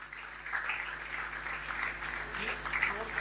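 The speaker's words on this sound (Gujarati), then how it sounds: "આપણે સૌ તાળીઓના ગડગડાટથી એમને વધાવી રહ્યા છીએ." Applause from an audience at a school felicitation ceremony for Dr. Jaswant Modi, heard as a steady wash of clapping that continues for a few seconds.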